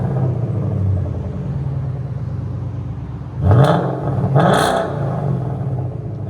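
A Ford Mustang GT with a 5.0L V8 and Flowmaster Outlaw exhaust idles with a deep, steady rumble, then blips the throttle twice into loud, sharp revs that fall back to idle.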